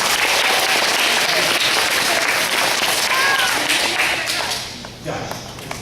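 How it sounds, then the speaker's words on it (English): Audience at a talk applauds a volunteer coming on stage, a steady loud wash of clapping that thins toward the end with a few voices. "Give him a round of applause, everybody."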